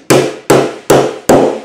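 Four sharp, evenly spaced hammer blows ring out loud and close as wooden parts of a Langstroth beehive kit are nailed together, each strike decaying quickly before the next.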